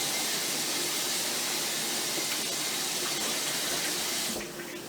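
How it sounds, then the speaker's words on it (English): Loud, continuous hissing sizzle as water hits a hot pan and flashes to steam, easing off slightly toward the end. "You're able to hear the water kind of, turn to steam immediately."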